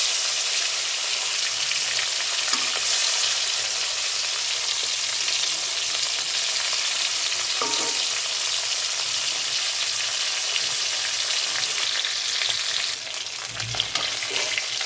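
Pieces of fish fry in a pan with a constant, close hissing sizzle that runs through the whole clip, with a few faint bumps of handling.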